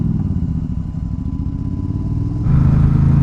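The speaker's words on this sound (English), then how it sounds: "Yeah, this has a cool growl to it." A Honda Rebel 1100 V-twin motorcycle engine running with no muffler, a close, loud and steady throaty growl that rises in level near the end.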